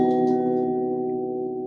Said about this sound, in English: This is a major 7 chord, but it is a very dark, aggressive, dense major 7 chord.